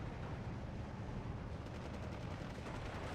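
Battlefield noise from the Steel Division war game as a bazooka fires on a Panzer II tank: a loud, continuous roar of gunfire and explosions that stays dense and heavy throughout.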